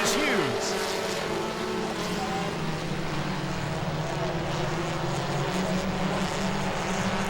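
Super Trucks race around Langley Speedway, their engines droning in layered tones, with one truck sweeping past at the start while a track announcer talks over the noise.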